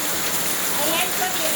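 Rain falls steadily on a village house with a tiled roof and on a parked car, a dense, even hiss close by with no pauses.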